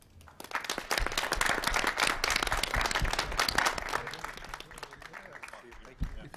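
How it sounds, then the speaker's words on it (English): An audience at a franchising roundtable panel breaks into brisk, moderately loud clapping that builds quickly, holds for a few seconds, then tapers off into a few scattered claps. "So I would like to give a round of applause to our panel."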